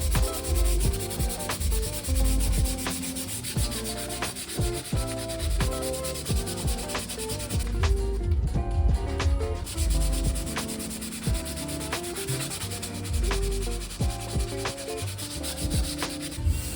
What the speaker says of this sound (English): And now it's time to sand everything